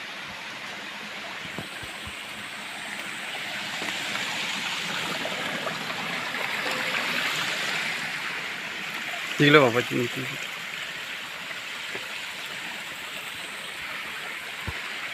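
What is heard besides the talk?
Narmada river waterfall and flowing water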